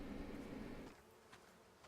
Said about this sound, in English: I hear bees. That means honey.